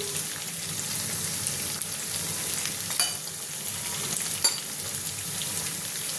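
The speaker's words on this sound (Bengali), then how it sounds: "এবার আদা বাটা দিলাম, আদাটা একটু ভালো করে ভেজে নিতে হবে।" Ginger paste frying in oil in a pan for a tengra fish curry, with a continuous close sizzle and a few sharp scrapes from stirring, no voices.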